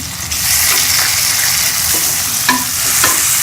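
Tomatoes going into a frying pan for a potato and egg curry, giving a loud, dense hiss of oil sizzling up close, with a few sharp clinks of a utensil against the pan.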